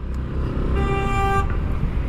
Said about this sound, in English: Hello, who's hooting who?